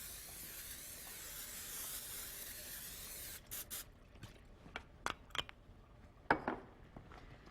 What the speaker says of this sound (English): I want to spray it with cooking spray, and actually spray it with cooking spray